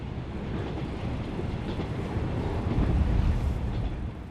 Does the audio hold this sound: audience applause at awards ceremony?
no